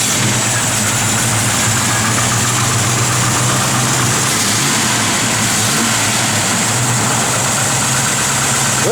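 A 1969 Chevrolet Camaro SS idles up close, a loud steady rumble with an even low throb running throughout and no talking over it.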